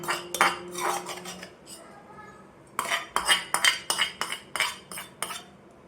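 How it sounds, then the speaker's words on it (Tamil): Cooked rice with lemon juice is stirred in a metal vessel for lemon rice, giving sharp spoon clinks and scrapes, first in a short cluster, then in a quick rhythmic run after a pause. "இப்போது லெமன் ஜூஸ் சேர்த்ததுக்கப்புறம் இந்த மாதிரி கிண்டி விடலாம்"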